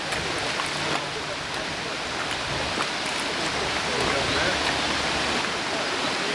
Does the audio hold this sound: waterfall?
yes